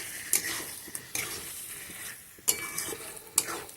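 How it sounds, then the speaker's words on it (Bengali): Jackfruit, potato and fried shrimp being stir-fried together in a pan, with a soft steady sizzle broken by several sharp scrapes and clanks of the spatula against the metal. "দিয়ে ইঁচড় আলু চিংড়ি মাছ একসঙ্গে ভালো করে একটু কষাতে থাকবো।"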